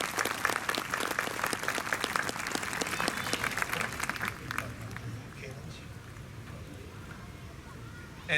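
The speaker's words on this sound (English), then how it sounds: "How about a big round of applause for the municipal band?" An outdoor crowd at a bandshell claps and cheers loudly for a municipal band, the dense clapping tapering off over several seconds into a quieter murmur at a distance.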